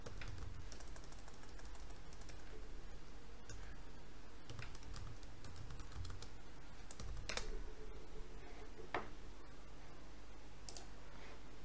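Someone types on a computer keyboard, a fast stream of light, close clicks with a few sharper key presses standing out.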